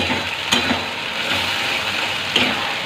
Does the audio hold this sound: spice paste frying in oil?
yes